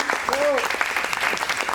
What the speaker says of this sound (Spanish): Quisiera, por favor, pedir un fuerte aplauso para Marcos Yauri Montero